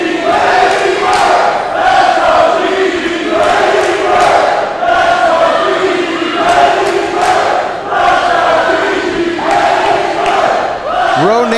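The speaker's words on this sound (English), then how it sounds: "Yeah, this crowd is split, Kirby." Crowd at an all-women's professional wrestling match, loud and continuous with rhythmic chanting and cheering surging in waves, dense and close throughout.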